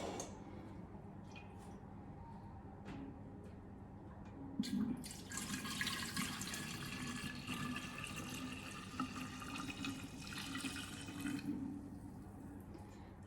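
Liquid pours into a 5-liter jug holding a thick SCOBY, a soft, steady splashing and trickling that rises partway through, continues for several seconds with scattered drips, then tapers off, close and fairly quiet.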